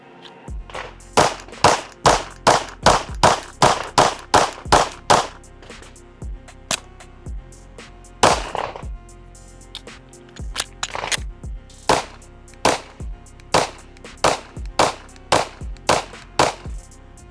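A Ruger RXM pistol fired through many magazines, sharp loud gunshots in quick strings with brief pauses between groups, close and dominant with no talking.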